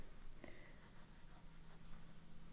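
A Monteverde fountain pen with a zoom nib, writing with shimmer ink on paper, gives faint close scratchy strokes that come in short irregular bursts over quiet background hiss, with no talking.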